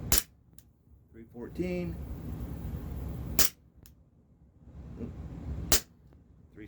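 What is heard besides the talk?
Smith & Wesson M&P 6mm airsoft pistol firing on green gas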